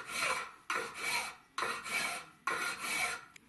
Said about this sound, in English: I'm going to file an angle here and here out to this edge